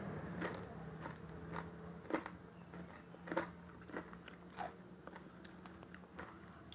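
Crispy fried tofu being bitten and chewed close up, with soft crunchy crackles and small clicks scattered over several seconds against a quiet background.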